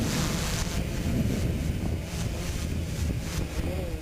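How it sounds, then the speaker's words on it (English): Strong outdoor wind buffets the microphone in a constant low rumble with gusty surges throughout. "It is windy today"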